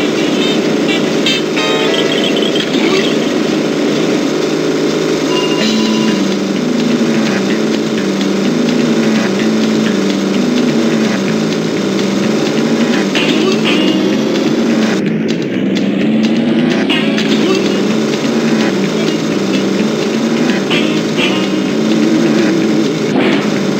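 Race car engines in the video game LEGO Island, a loud, continuous buzzing drone with a pulsing, ratchet-like hum that holds steady for the whole stretch, with no speech.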